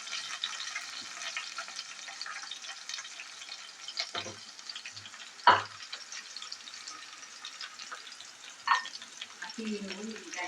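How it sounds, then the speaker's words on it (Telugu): Green chillies and onion sizzle steadily in a kadai, a continuous close hiss with a few sharp clinks of the spoon against the pan. "కడాయిలో పచ్చిమిర్చి, ఉల్లిగడ్డ వేసుకున్నా. ఇవి వేగాలి."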